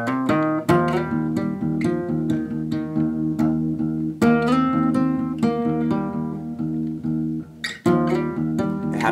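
Electric or acoustic guitar in drop D tuning plays the main riff of a song, a steady chugging pattern of picked notes and chords with sharp attacks, close and loud, with no talking over it.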